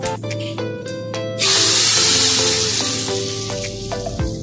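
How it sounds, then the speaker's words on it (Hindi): A loud, sudden sizzle bursts in after a few clinks and taps, then a steady hot hiss fades slowly as hot spiced tempering is poured into chana dal. "अब हम तड़के को दाल में डाल लेंगे"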